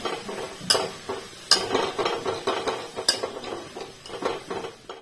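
A spoon or spatula scrapes and clatters against a pan as vegetables for veg manchow soup are stirred and fried, with sharp metallic knocks over a faint sizzle, close and steady throughout.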